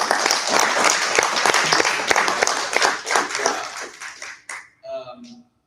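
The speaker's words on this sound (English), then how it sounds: "Another round of applause, please." Applause from a graduation ceremony audience after the speeches, dense clapping that gradually thins out and stops, followed by a brief voice at the end.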